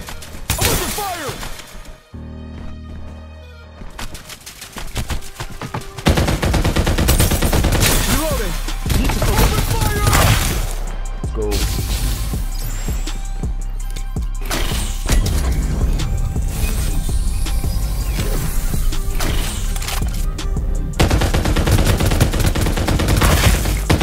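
Dense gunfire crackles in the video game Farlight 84, with rapid bursts and fusillades layered over mechanical clatter and game effects, loud and nearly continuous, while a player talks over it.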